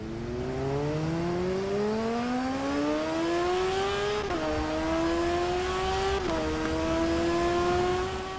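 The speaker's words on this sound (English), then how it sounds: "it almost redlined on the first gear but then shifted up quite quickly on the second" A motorbike engine in TT Isle of Man climbs steadily in pitch under automatic gears, shifts up twice with brief dips, then keeps pulling hard, loud and continuous.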